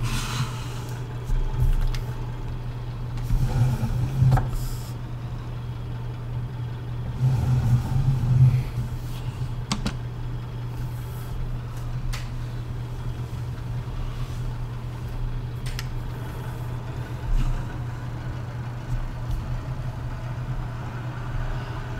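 A tractor engine idles and rumbles steadily in Farming Simulator 19, rising briefly in a couple of low revving swells before settling back to a constant drone.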